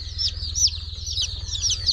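Rapid high-pitched peeping from several young booted bantam chicks, continuous and close, over a low steady hum.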